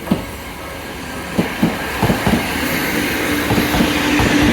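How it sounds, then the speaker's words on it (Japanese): A Sangi Railway train in Seibu Line colours rumbles past a level crossing, its wheels knocking in a steady clickety-clack over a loud, continuous rolling roar close by. "日最初に乗ったですね西武線のカラーの電車が通ってきましたね"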